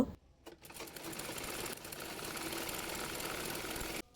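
An electric sewing machine runs a steady, continuous stitching burr for several seconds while sewing elastic onto a salwar pant waistband, then stops abruptly, with no talking.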